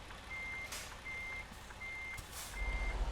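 A truck in American Truck Simulator sounds four evenly spaced reversing beeps over a low engine hum, with a brief hiss between beeps and the engine rumble swelling at the end.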